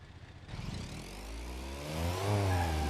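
A damaged, smoking car engine in the BeamNG.drive driving game, a low mid-pitched engine drone that revs up and climbs in pitch toward the end, steady and fairly close with no talk.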